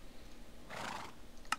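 A Minecraft horse from the Mo Creatures mod gives a single whinny of about half a second, fairly clear and close, followed by a brief sharp click.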